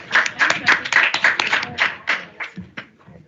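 A small group claps at a student senate meeting, a short burst of fairly close, uneven handclaps that fades out after about three seconds.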